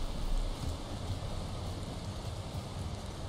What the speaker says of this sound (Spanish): Que encima está lloviendo.